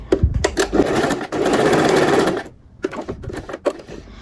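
A sewing machine stitches men's trousers in short, rapid bursts of clattering needle strokes, with one longer steady run in the middle, close and loud.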